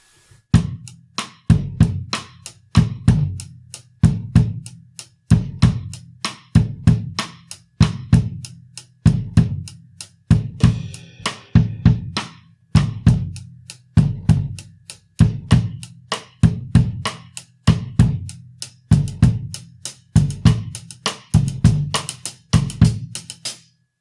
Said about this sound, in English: That's the first 4 snares.